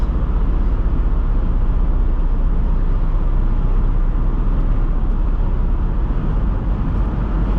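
From inside a 2008 Chrysler Aspen with a 5.7L HEMI at highway speed comes a constant loud rumble of road and wind noise, steady throughout with no talking.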